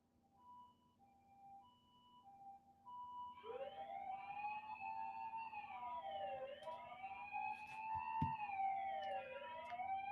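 An ambulance siren wails outside a house, rising and falling in a steady sweeping pattern that swells from faint to loud as it draws near, with a brief thump partway through.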